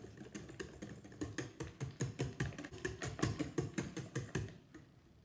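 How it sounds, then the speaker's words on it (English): A whisk beats cheesecake batter with freshly squeezed lemon juice and vanilla extract in a bowl, a fast, steady run of sharp clicking strokes that speeds up and then fades at the end, with no voices. "Whisk that in."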